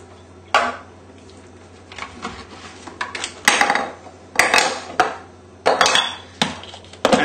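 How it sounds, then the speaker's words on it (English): A mixing bowl brought in and handled in a home kitchen, with a series of sharp clinks and knocks at irregular intervals, close and fairly loud over a quiet low hum. "this is where we can bring in our mixing bowl, and we're done with the blender now"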